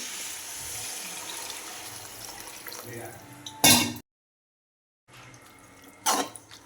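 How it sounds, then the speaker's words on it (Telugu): Water pours steadily into a pan of frying ridge gourd curry for a few seconds with a soft rushing hiss, followed by a pause and a couple of short clattering bursts. "ఇప్పుడైతే వాటర్ అయితే యాడ్ చేసుకోవాలి"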